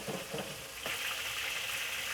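Beef strips sizzle loudly in hot oil in a wok for Mongolian beef, a dense, steady frying hiss that swells slightly partway through and runs without a break.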